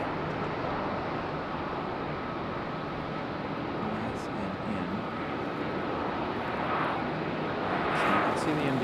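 A CRJ regional jet at Raleigh-Durham International Airport gives a steady, continuous engine roar that stays broad and loud throughout, with a faint rise in intensity toward the end.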